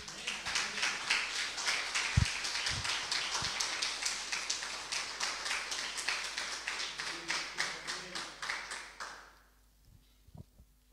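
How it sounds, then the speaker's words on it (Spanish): A congregation applauds at a Yom Kippur gathering with dense, rhythmic clapping in steady pulses that fill a room for about nine seconds, then cut off abruptly into near silence with a couple of faint knocks. "Vamos a darle un aplauso a nuestro Rey"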